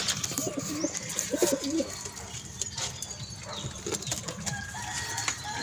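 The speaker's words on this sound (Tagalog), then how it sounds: "Ito yung nakarera ko ng mga kalapati mga guys." Racing pigeons coo nearby in soft, repeated throaty phrases, several short bursts rising over a faint background hum.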